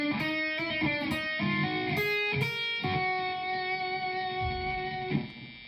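Slow lick on distorted electric guitar, single sustained notes picked and pulled off one after another in a steady, unhurried phrase, close and alone with no talking.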